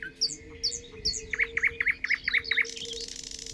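Small forest birds sing in mid-June: a rapid series of bright, evenly spaced chirps repeats near the listener over a faint steady background hum, with no voices.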